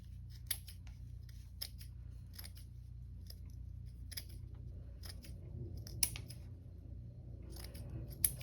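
Scissors cut material into small pieces: several crisp, sharp snips at irregular intervals, close up, over a low steady hum.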